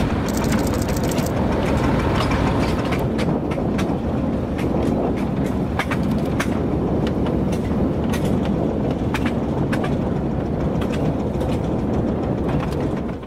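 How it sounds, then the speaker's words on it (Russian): A diesel locomotive shunts a timber train on the Chepetsk narrow-gauge railway, with a loud continuous rumble of the engine and rolling wagons and many sharp metallic clanks and rattles throughout, close and steady. "Тепловоз делает маневры, оставив состав с лесом на объездном пути."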